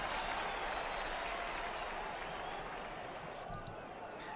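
A computer baseball game's simulated crowd at Boston, the 1991 Blue Jays at Red Sox, gives a steady wash of cheering and clapping, fairly faint and continuous with no talk over it.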